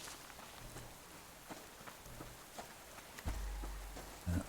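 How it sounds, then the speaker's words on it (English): Rain falling in the survival video game Subsistence, a steady soft patter across the whole stretch, with a few brief louder knocks and a low rumble swelling near the end. "And here's the rain."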